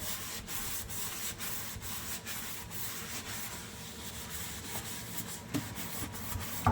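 Scrubbing a dirty steel kitchen sink clean by hand: a rhythmic, close rubbing and scouring sound with repeated back-and-forth strokes, fairly quiet and steady, with no talk.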